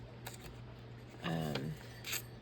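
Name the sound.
scissors trimming a craft project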